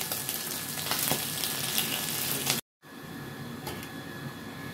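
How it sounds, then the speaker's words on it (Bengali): Hot oil sizzles steadily in a wok after shankar (stingray) fish has been fried and lifted out, a dense close crackle that cuts off briefly, then resumes at the same level. "আর এই যে তেলটা ভেজে নিচ্ছি,"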